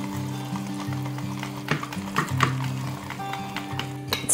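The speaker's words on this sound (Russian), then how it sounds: "Я добавила часть муки, сейчас перемешаю до однородного состояния." Thick kefir pancake batter with flour, made without eggs, is stirred in a bowl, producing soft scraping and several sharper clicks at an irregular pace over steady background music.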